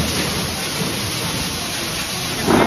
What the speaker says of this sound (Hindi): बहुत ज्यादा बारिश हो रही है बाहर, बहुत ज्यादा तेज